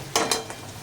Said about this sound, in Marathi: बघा इथे कांदा छान असा परतलेला आहे.